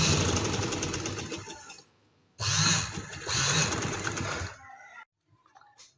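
A sewing machine stitches a neckline in two loud, steady mechanical bursts with a short pause between them, then stops and leaves a few faint clicks.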